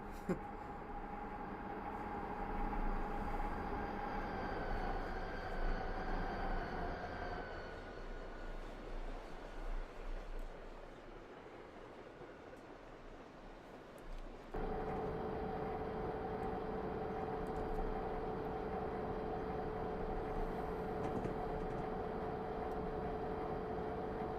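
A GE B40-8 freight locomotive in Train Simulator on the Arizona Divide route, a steady engine drone with sustained tonal hum that drops into a rougher rumble midway before the tone returns, with occasional voices.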